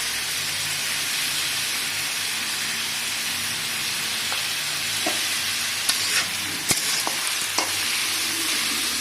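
Potatoes and onions frying with salt and turmeric in a pan, a steady, dense hiss of sizzling oil throughout, close and even, with a few faint clicks of stirring toward the end.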